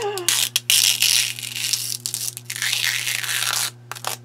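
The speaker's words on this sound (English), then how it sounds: "Now I have to find that first piece of packing tape" Packing tape pulled off and torn in several bursts of loud ripping and crinkling, close up, with brief pauses between pulls over a steady low hum.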